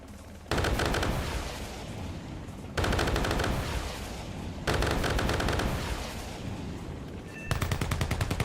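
Rockets fire in the horror video game Lost in Vivo, heard as four loud bursts of rapid rattling fire separated by short gaps, with the last burst sharper and more clipped.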